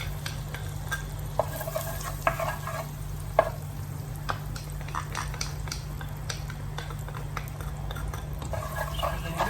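Butter melting in a hot pan while being stirred, giving a steady sizzle and frying crackle with scattered scraping clicks from a utensil, heard close and without talk.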